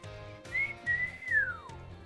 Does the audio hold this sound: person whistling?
yes